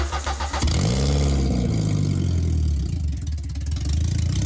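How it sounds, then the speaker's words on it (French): A car engine cranks, catches and sputters unevenly, chugging and coughing loudly up close before settling into a rough idle. "Écoutez vomir le moteur."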